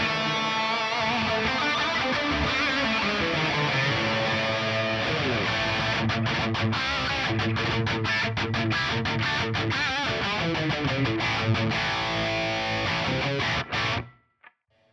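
Hamer Standard electric guitar fitted with Duncan EVH and Duncan Jazz pickups, played through a high-gain distorted amp: dense, saturated chugging riffs and held chords, loud and continuous for the whole passage, cutting out abruptly near the end.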